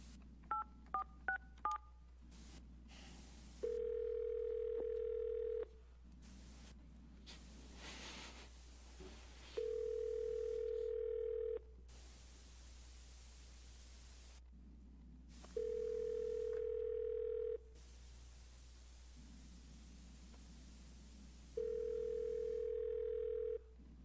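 A court office telephone system dialing a quick burst of touch-tone digits, then a steady tone sounding in repeated two-second bursts separated by quiet gaps, clear and close with no one speaking.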